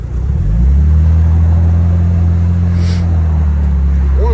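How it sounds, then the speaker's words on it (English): A 1961 Jaguar E-type Series 1 roadster's engine turns over and settles into a loud, deep, steady idle rumble close by, with a brief faint higher noise partway through. "I'm gonna fire this up."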